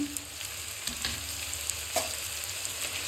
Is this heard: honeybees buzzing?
no